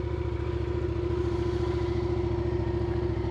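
A 2019 Yamaha MT-07 motorcycle engine idles smoothly and close, a steady low rhythmic putter with no speech over it.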